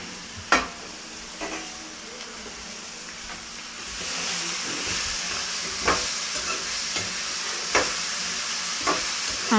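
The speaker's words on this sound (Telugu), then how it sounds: "ఇప్పుడు మనం కట్ చేసి పెట్టుకున్న బీరకాయ పీసెస్ అన్నీ ఇప్పుడు వేసుకొని మిక్స్ చేసుకోవాలి" Ridge gourd pieces are stirred into a frying onion mixture in a pan, with a steady close sizzle and several distinct scraping spatula strokes; the frying grows louder partway through.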